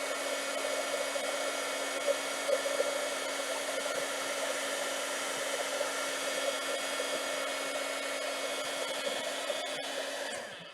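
An embossing heat gun blowing steadily over a craft project, a constant loud whirring hum that holds unchanged for about ten seconds before winding down at the end.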